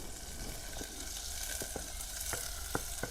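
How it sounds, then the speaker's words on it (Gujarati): Grated onion frying in a pan, a steady soft sizzle with occasional crackles and pops, close and alone without talk. "ડુંગળી જો આપણી કકડે છે"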